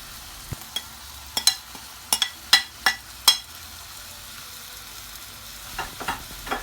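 Bean sprouts, chicken, tofu and Chinese celery stir-fried in a Thai home kitchen: a soft steady sizzle under a run of sharp, close spatula clacks and scrapes against the pan, quieter toward the end.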